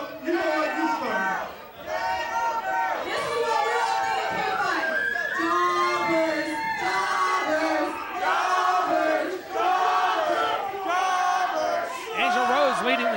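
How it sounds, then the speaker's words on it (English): Crowd at an independent wrestling show chanting in loud rhythmic unison, many voices shouting together in repeated bursts with whoops and bellows, filling the hall nearby. "Leading the chant here for Jobbers on the K5. The whole crowd getting involved on this one."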